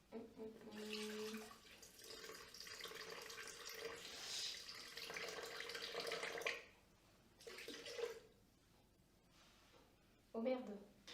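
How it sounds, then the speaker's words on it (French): Water pours steadily into a cooking mixture for several seconds, then stops, with a few shorter splashes afterward; people talk over and between the pours. "maintenant, faut mettre 300 g d'eau"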